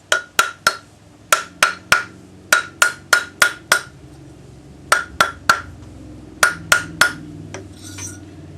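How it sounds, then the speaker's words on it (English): A rawhide hammer strikes a metal bangle on a bracelet mandrel in quick bursts of two to four sharp, ringing taps with short pauses between, close and clear, with no talking. "Rawhide hammer."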